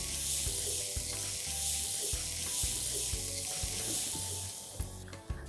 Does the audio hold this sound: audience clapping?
no